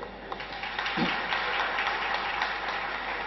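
Audience clapping at a 2015 ninth-anniversary astrology function in Tamil Nadu, a dense continuous patter from a large crowd, moderately loud and steady for the whole stretch with little talk.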